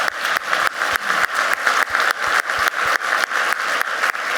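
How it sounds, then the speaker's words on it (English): A crowd at a City of Atlanta meeting claps for early childhood teachers, loud and close, settling into a steady rhythmic beat of roughly three claps per second throughout. "Let's give all those teachers a round of applause"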